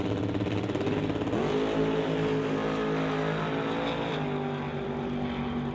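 Doorslammer drag cars racing down the track at a Canada West elimination event, a steady, loud, distant engine roar that holds throughout with a slight pitch shift as the cars pass.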